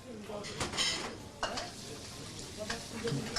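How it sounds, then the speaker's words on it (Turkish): Minced meat sizzling and frying in a pan, with a steady crackle and occasional scrapes and clinks of a utensil stirring, fairly quiet. "Kıymayı kavurmaya başladı ustam. Sesi gelmeye başladı."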